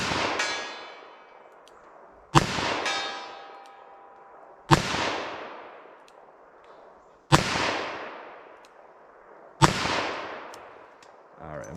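Five sharp gunshots from .44 Special XTP hand loads, fired at a ballistic gel target at an outdoor range, each a loud crack with a long ringing decay, spaced about two and a half seconds apart.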